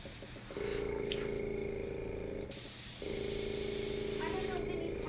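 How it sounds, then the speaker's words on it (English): A phone placing a call gives two long, steady electronic tones separated by a short gap, fairly loud and close, with faint room noise behind. "Go get Vinny's phone and call her."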